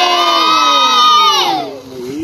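A crowd at a live show shouting and cheering together, loud and close, with rising and falling chanted cries that sweep down near the end, then brief quieter crowd noise.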